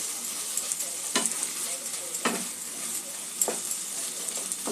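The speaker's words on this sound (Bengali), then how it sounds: "আলুটা একটু মশলার সঙ্গে একটু ভাজা করে নেব।" Potatoes frying with spices in a pan, a steady soft sizzle broken by a few distinct scraping stirs at intervals, close and fairly quiet, with no talking.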